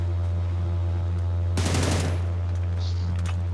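Beryl M762 assault rifle fire in the mobile shooter New State Mobile, set on the Erangel map: a loud, dense automatic burst of about half a second cuts through steady low game hum, followed by fainter distant shots.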